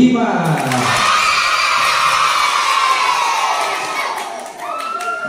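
A primary school crowd at an awards ceremony for a poetry-reading contest cheers and whoops loudly with scattered clapping, the roar holding steady and then easing off near the end, while a voice talks over it.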